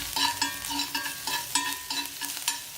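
Oil sizzles steadily in a pan, with bursts of crackling and light scraping as chopped ginger and garlic are stirred, close and fairly quiet.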